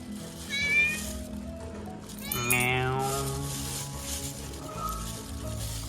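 A cat meows several times, drawn-out and wavering calls close by, over a low background hum with no clear speech.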